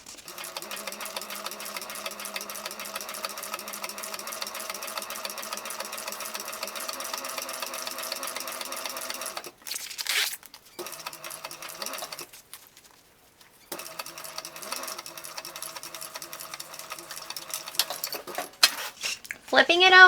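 A sewing machine top stitches a backpack, running a steady mechanical whir for about nine seconds, then stopping and starting in short bursts with brief pauses between runs.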